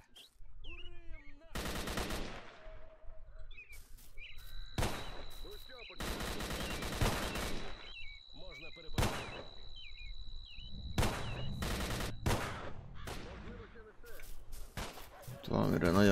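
Bursts of gunfire crackle in STALKER: Call of Pripyat (Complete Mod) near the Jupiter plant, loud rapid volleys and single shots coming in uneven clusters, with occasional bird chirps and a player's voice in the quiet gaps.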